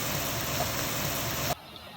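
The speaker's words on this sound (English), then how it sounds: "so now it's beginning to boil into the sizzle." Ground beef boiling in hot oil in a pan for sizzling Korean beef, giving a steady, dense bubbling hiss that cuts off abruptly near the end, leaving a quiet background.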